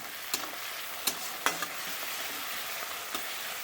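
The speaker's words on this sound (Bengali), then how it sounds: "পেঁয়াজ আর টমেটো, জিরে আদা ফোড়ন দিয়ে, জিরে আর তেজপাতা ফোড়ন দিয়ে আমি একটু কষিয়ে নিলাম" Onion and tomato sauté in a pan with cumin and bay leaf, giving a soft steady sizzle broken by a few sharp scrapes of a spoon stirring, close and moderately quiet with no voices.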